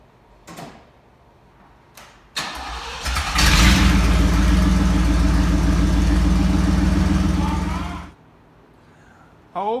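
A car engine with its exhaust removed cranks and fires, then runs loud and raw with a deep rumbling drone for several seconds before cutting off abruptly.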